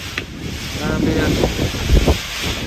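Strong typhoon wind gusting during a storm, a steady broadband roar with buffeting rumble against the microphone, a voice briefly audible over it.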